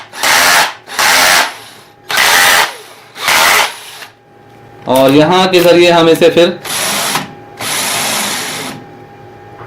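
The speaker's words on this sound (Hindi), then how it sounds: "हम इसे उल्टा रोटेशन में चलाएंगे तो इसका ये चेक नट खुल जाएगा और हम बिट को चेंज कर सकते हैं।" A cordless DC drill machine whirs in short bursts, running in reverse and forward rotation to loosen and tighten its chuck. Several loud, close runs are separated by pauses, and someone speaks briefly between them.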